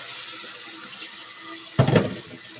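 Hot water runs from a kitchen tap for cooking, a soft steady background flow that swells into a louder, fuller gush near the end, with no talking.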